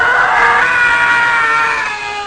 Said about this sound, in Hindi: पागलों की तरह चीख रहा था।